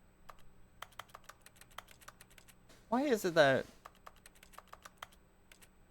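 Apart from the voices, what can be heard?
typing noises when clicking in The Stanley Parable Ultra Deluxe video game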